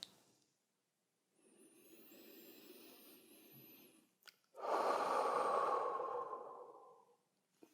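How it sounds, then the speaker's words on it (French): A person takes a deep breath alone in a quiet room: a slow, soft inhale lasting a few seconds, a brief pause, then a louder, fuller exhale that fades out. "prenez une grande respiration"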